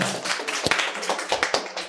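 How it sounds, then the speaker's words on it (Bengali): A crowd at a quiz competition gives a contestant loud applause after a correct answer: dense, continuous clapping with a few sharper slaps standing out, near and steady throughout. "জোরে হাততালি একটা ম্যাডামের জন্য"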